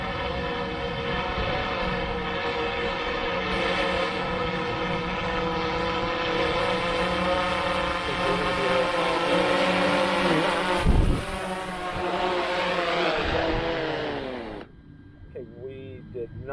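A DJI Phantom 4 Pro V2 drone comes in to land in an open field: a steady, loud propeller whine with layered tones descends toward the ground, then cuts off sharply as the motors stop.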